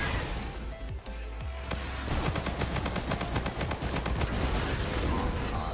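Rapid automatic gunfire in the Call of Duty: Infinite Warfare video game rattles in dense, loud bursts. Overlapping shots and impacts grow heavier after a brief lull.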